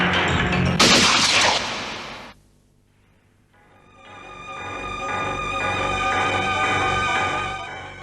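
Gunfire at shooting practice, a dense burst of loud shots in the opening two seconds, then a brief near-silent pause before a sustained musical passage takes over.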